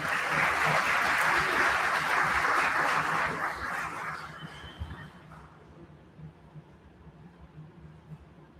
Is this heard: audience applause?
yes